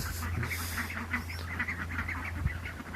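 Several backyard ducks forage through mulch, giving off a steady run of close, rough quacks and chattering calls over a low constant hum.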